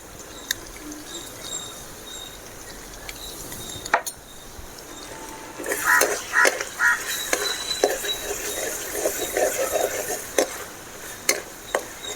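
Tomato pickle sautés in oil in a pan, starting as a quiet hiss with a sharp knock, then turning into a louder stretch of bubbling sizzle and stirring scrapes, close up and without speech.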